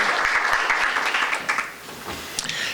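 Audience at a Citizens Club meeting applauding the club president, a moderate burst of clapping from a room of people that thins out toward the end.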